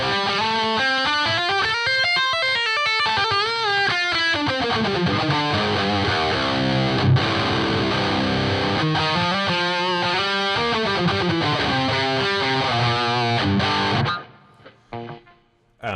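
Electric guitar played through an amp with a slight delay and reverb, a sustained, distorted melodic line with bending notes that rings out and then cuts to near silence at the end.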